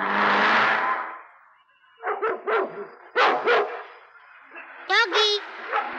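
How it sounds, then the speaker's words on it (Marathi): A dog barking in a dramatic film scene, a few sharp barks in quick bursts, close, alongside a voice that speaks and whimpers. "भुंकू नको माझ्यावर प्लीज"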